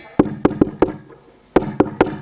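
Knuckles rap on a village house door latch in two close, sharp groups, four knocks, a pause, then three more.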